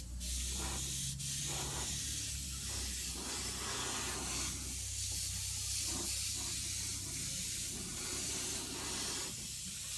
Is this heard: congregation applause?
no